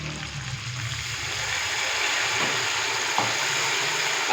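Water splashes into a hot pan of frying spices, red chili powder and salt, for an egg and peas pulao. It makes a steady, loud, continuous sizzle with faint stirring and no talking.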